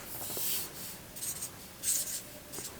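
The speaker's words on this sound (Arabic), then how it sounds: "ده قلم اسود عادي، قلم سبورة" A black whiteboard marker drags across a board in several soft squeaky strokes, near and fairly quiet, with short pauses between lines and no talk.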